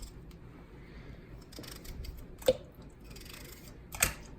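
A knife cuts cooked potatoes for mashing, giving two sharp, brief knocks against a board a second and a half apart, close by in a quiet kitchen.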